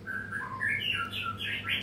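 A wild white-rumped shama sings alone, a close, clear run of varied whistled phrases and chirps rising and falling in quick succession over faint low background hum.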